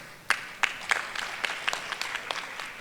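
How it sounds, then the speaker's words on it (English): A small conference audience at a physical rehabilitation side event claps sparsely for presenter Sampor: roughly ten separate, fairly quiet claps, spaced unevenly over a few seconds. "So please give a round of applause to Sampor."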